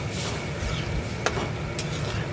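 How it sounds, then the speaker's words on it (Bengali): Boiled split pea dal sizzles in hot oil with bay leaf tempering in a pan as a spoon stirs it in a steady scraping churn, with two sharp metallic taps against the pan. "একটু নাড়াচাড়া করে"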